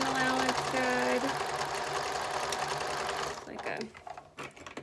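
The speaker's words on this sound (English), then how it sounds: "we're going to take this over to the machine right here, and we're going to stitch down the sides" A sewing machine stitches down the sides of a fabric mask with ties, a steady close mechanical whir and needle clatter that runs for a few seconds and then stops, leaving faint handling sounds.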